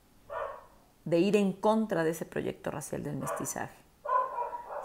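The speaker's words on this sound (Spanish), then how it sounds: "perdón por el perro" A dog barks in short bursts near the microphone at the start and end, around a man lecturing in Spanish who keeps talking over the barking.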